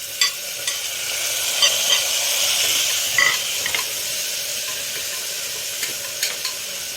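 Tomatoes sizzle and fry in a pan for dal, a steady close hiss broken by scraping taps of a spoon stirring now and then.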